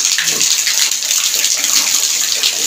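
Heavy rain pours steadily in a loud, dense hiss of water close by, continuing without a break.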